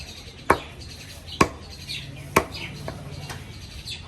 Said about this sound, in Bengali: গোস্ত কাটার ভাব তো দেখতে পাচ্ছেন